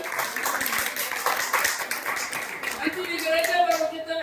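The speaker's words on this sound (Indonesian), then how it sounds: "Kita tepuk tangan." A church congregation claps hands together during worship, a dense, steady patter of many palms running under a preacher's voice, with a sustained tone rising near the end.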